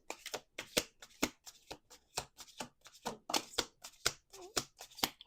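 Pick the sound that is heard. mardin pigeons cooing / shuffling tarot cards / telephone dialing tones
shuffling tarot cards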